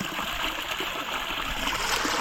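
Water from a large natural spring flows and splashes steadily, a continuous broad rushing and trickling close by with no talk over it.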